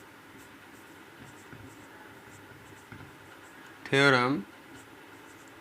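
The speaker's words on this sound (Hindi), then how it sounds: "यहाँ लिख देते हैं।" Chalk or marker scratches briefly on a board during a maths lesson on a triangles theorem, a short burst of writing between stretches of a teacher talking.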